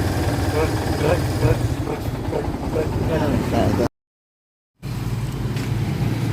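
A Kawasaki Barako motorcycle engine runs steadily and loudly with a rapid throbbing beat likened to a helicopter, broken by a brief gap of silence before the steady running resumes.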